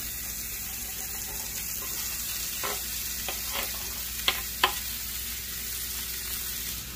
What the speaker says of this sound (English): I'm also going to add some onion that I had left over and half a pound of bacon